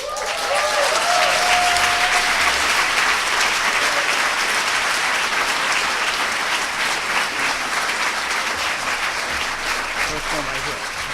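Loud, sustained applause from a large audience welcoming Robin D.G. Kelley at a talk on freedom dreams, steady clapping filling the hall for about eleven seconds with no one speaking over it.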